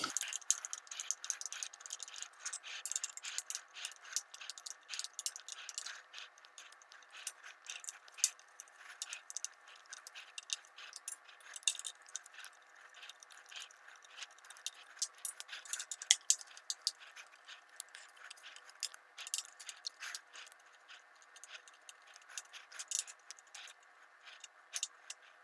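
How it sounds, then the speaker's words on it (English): Small screws being unscrewed from the corrector plate retaining ring of an SCT telescope, heard as a steady stream of faint metallic ticks and rattles, close up and alone. "you grab the screw. Once you unscrew it"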